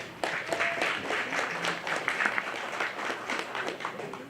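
An audience at a Memphis town hall meeting gives a round of applause, steady scattered clapping from a modest crowd, fairly distant and soft, lasting several seconds.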